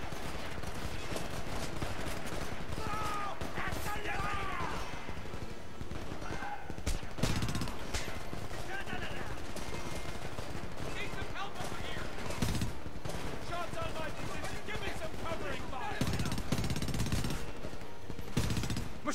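Continuous machine gun fire in the video game Homefront, a dense, loud rattle of rapid shots layered with other gunfire and game effects, with voices speaking over the battle at times.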